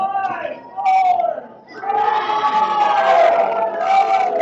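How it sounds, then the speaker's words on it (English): A crowd at a boys' league championship final of ultimate frisbee yells and whoops in loud bursts, a short swell, a brief lull, then a longer rising roar. "The crowd starting to yell for the pull to occur."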